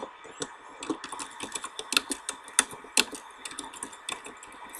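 Fingers type quickly on a computer keyboard, a close, uneven stream of crisp key clicks with occasional louder taps, no voices.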